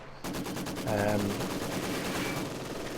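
A German heavy machine gun squad opens up on a Russian HMG crew in the World War II strategy game Company of Heroes 2, a steady rapid stream of shots rattling on for about three seconds with faint voices underneath.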